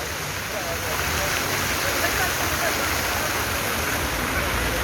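Water runs steadily from a free public tap outdoors in Lille, France, a constant close rushing hiss with no breaks.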